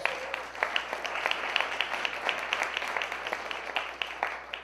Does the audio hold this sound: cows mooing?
no